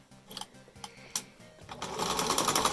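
A sewing machine stitches a fabric mask with elastic, starting with short bursts of rapid mechanical clatter and then running into a louder continuous whir, close and without talk.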